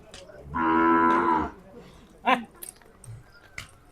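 Khillar cattle at a cattle show give one long, loud moo, followed by brief voices and scattered crowd noise.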